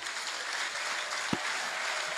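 Church congregation claps in a dense, even patter of applause, heard from within the crowd with one sharper knock partway through and no speech.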